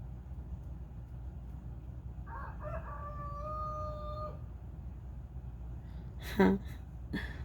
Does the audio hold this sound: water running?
no